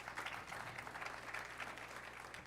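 An audience at a US Open 9-Ball Championship final applauds a pool shot, steady moderate clapping from a seated indoor crowd, faint and even for a couple of seconds.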